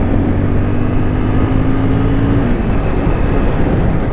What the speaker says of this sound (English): we'll do a little bit of roll-on acceleration here from 60 to 80 in third gear